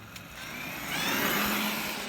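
A brushless Traxxas Summit RC truck drives nearby, its whining motor rising in pitch and loudness before settling, heard alone without talk.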